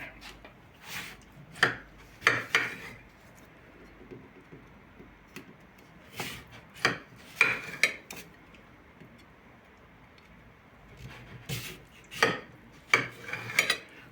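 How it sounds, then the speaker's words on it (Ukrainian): Knife slicing a peeled watermelon into strips, giving a series of short crisp cutting and scraping strokes in irregular bursts, close and moderately loud with no talking. "А тепер беремо ножик і нарізаємо такими полосками."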